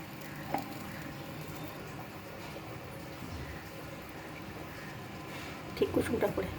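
An egg fries in a hot pan with a steady, low sizzle throughout, and a louder scrape and splatter near the end as it is flipped; a voice talks softly over it.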